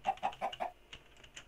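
Several quick, loud chicken clucks from Minecraft, four in a steady row and then a few softer ones, with no talk over them.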